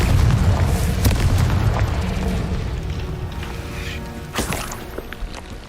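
A Confringo fire spell in the game Hogwarts Legacy detonates as a deep, rumbling boom that decays slowly over several seconds, with a smaller crackling pop near the end and no talk.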